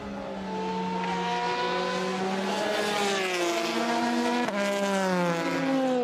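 Race car at the 24 Hours of Le Mans, its engine droning loud and steady throughout with shifting pitch as it runs past, a close continuous roar with no talk.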